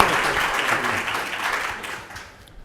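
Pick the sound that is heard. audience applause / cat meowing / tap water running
audience applause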